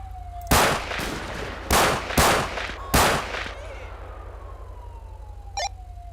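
Four loud broadband gunshots ring out one after another from a suspect takedown in GTA 5 with the LSPDFR police mod, over a wailing police siren that keeps sweeping and fades alone after the shots.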